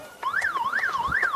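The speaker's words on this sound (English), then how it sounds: "as we'll hear the siren." A wailing siren sounds to end a period of a high school girls' soccer game, its pitch rising and falling in a steady cycle, loud and clear with no talking.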